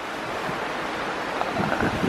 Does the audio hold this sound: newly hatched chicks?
no